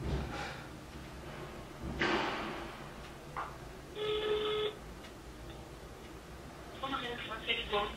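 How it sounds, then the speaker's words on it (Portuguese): An outgoing phone call plays its ringback tone through the handset, with two short buzzing rings spaced apart over a hissy room background, faint and close. "Maria Clara, Cadidé, por que você não quer me atender? Vou tentar mais uma vez."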